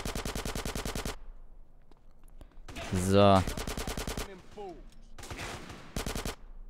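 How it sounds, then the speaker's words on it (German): Rapid automatic gunfire bursts in the video game GTA San Andreas, with loud close rattling volleys broken by pauses, a sharper blast midway, and someone speaking briefly between shots. "jetzt knall ich den auch noch ab"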